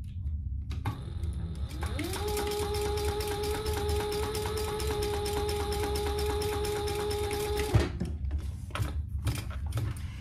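A sewing machine runs steadily for about six seconds while top stitching the seam of a fabric bag, a constant whirring hum that stops abruptly with a click.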